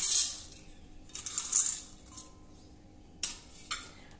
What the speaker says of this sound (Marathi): फुटाण्याच्या डाळ्या देखील घालूया